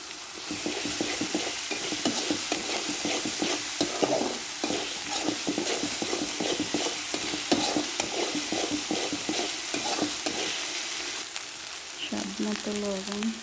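Garlic and ginger fry in hot oil for a chicken roast, with a steady close sizzle and rhythmic scraping strokes as a utensil stirs the pan throughout, and a brief clatter near the end.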